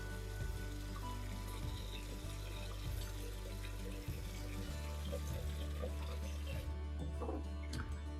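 Cold water pours steadily into a fermenting vessel to top up a peach, lychee, ginger, lemongrass and coconut mead to the one-gallon mark, a continuous quiet trickling and splashing, close by, with no voices.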